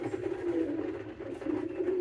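A pigeon coos softly and continuously nearby, a low rolling murmur with no other sounds.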